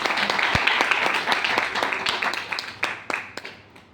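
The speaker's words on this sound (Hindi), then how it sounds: "एक बार कंपनी के लिए जोरदार ताली।" Applause from a crowd at a company meeting, dense clapping at first that thins into scattered, separate claps as it fades out.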